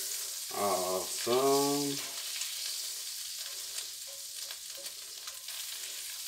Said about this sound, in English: half a stick of butter and just slide that in there. Melt that down.